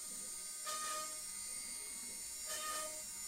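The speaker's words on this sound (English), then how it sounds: "So we're running at 90 inches a minute right now, drilling these holes." A Shapeoko 3 CNC machine drills holes at a 90 inches per minute feed rate. A steady, faint high mechanical whine carries two brief louder bursts as the bit plunges into the workpiece.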